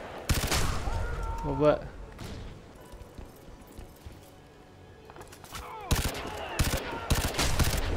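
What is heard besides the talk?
three-round burst rifle gunfire in video game Crysis 3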